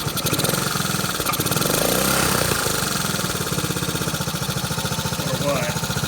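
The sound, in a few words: 1969 Honda CT90 motorcycle engine idling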